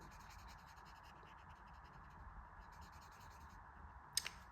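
A marker colors in the base of a drawing on paper, a soft, steady scratchy rubbing that continues quietly throughout and ends with a brief sharper tap.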